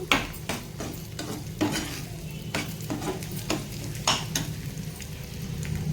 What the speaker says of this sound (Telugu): ఎగ్స్ ఇలా కలుపుకోవాలి.